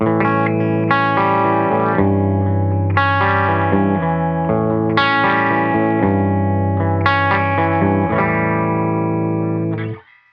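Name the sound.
guitar through Rainger FX Mini Drone effects pedal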